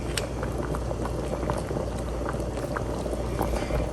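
A pot of stew with bouillon cubes tucked in, simmering on low heat, giving a steady close bubbling with small pops throughout and no talk.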